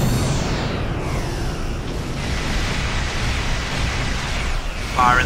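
Ship core breach explosion in Star Trek Online, a deep, roaring rumble of broadband noise like crashing surf that rolls on steadily through the whole stretch, loud and continuous with a faint tone near the end.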